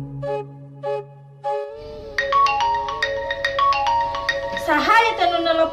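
A telephone ringtone plays an electronic melody of bright, stepping notes that grows busier toward the end, after a few steady opening tones.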